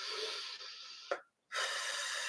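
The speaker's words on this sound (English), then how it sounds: "Deep breathing." Deep breaths taken during a breathwork exercise, close and steady: a long airy inhale, a brief sharp catch, a moment of silence, then another long breath.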